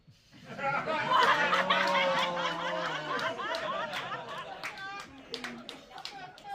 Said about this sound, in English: Clap your hands if you agree with me